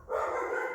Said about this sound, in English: Excuse my dog's barking in the background.